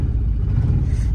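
Diesel engine of an Aixam GTI microcar idling and pulling with a coarse, tractor-like low rumble, steady and close throughout, no voices.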